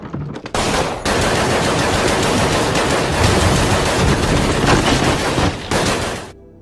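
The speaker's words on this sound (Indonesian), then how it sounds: "Tembakan Jeffers berhasil mengenai kaki Parker, tapi dia juga tidak sengaja menghabisi rekannya sendiri" Dense automatic gunfire rattles through a film battle scene between gangsters, loud and continuous for several seconds with overlapping bursts and brief pauses.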